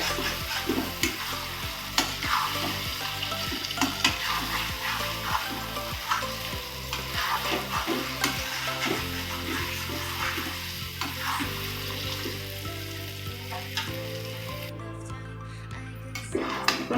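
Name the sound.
sautéing cashew prawn curry in a pan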